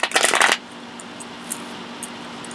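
Quick riffle of tarot cards being shuffled, a brief crisp flutter at the start, followed by near-silence with a couple of faint taps.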